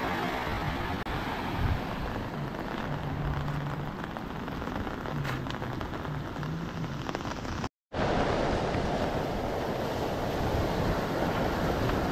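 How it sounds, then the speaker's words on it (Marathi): Heavy monsoon rain pours down in Konkan alongside rushing floodwater, a dense, loud, continuous roar of drops and flow that briefly cuts out before resuming just as strong. "कारण की पाऊस पण तेवढाच आहे, पाणी पण तेवढंच येतं आहे."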